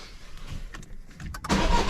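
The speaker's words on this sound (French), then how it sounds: "Démarrer le moteur" A Citroën DS3 1.6 HDi 110 hp diesel with newly replaced injectors is started: a quiet mechanical whir and a few clicks, then a loud, close burst as the engine catches in the final half second.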